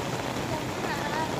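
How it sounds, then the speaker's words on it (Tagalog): Steady heavy rain pours onto surfaces outdoors during a storm, a dense continuous hiss of drops close by, and a voice is faintly audible beneath it. "Kaya medyo humupa yung ulan."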